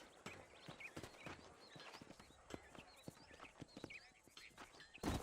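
Horse hooves clip-clopping in the Red Dead Redemption video game, a steady run of hoofbeats on hard ground, faint and low in level, with a louder burst at the very end.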